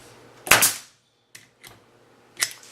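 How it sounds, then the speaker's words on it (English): A Hitachi 16 gauge brad nailer fires into a scrap of old pallet oak: one sharp, loud pneumatic crack with a short hiss, then two faint clicks and a second snap near the end. "Here's an old piece of pallet oak. We'll shoot a brad into that."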